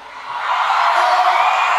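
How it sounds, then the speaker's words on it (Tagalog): Crowd shouting and cheering at a pastor's senatorial proclamation night rally, a dense, steady roar of many voices swelling louder after the first moments and holding at full strength. "Tingnan nga natin kung sino yung malakas ang sigawan."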